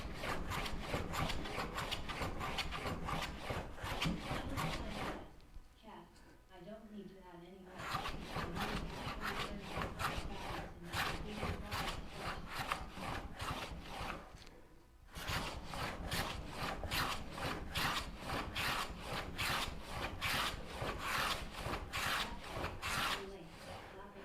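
Wood being flattened with a hand tool such as a rasp or plane for a bow saw frame, a close, loud rhythmic rasping in quick regular strokes, interrupted by two short pauses.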